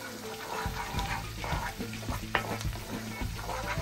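Garlic, scotch bonnet pepper, onion and thyme sizzle steadily in butter for a herb butter lobster sauce, a close, continuous crackle with soft clinks and stirring scrapes throughout.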